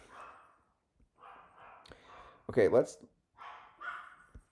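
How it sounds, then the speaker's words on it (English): A dog barks once or twice in the background, sharp and fairly loud, between stretches of a person talking quietly. "sorry if you hear my mom's dogs barking in the background"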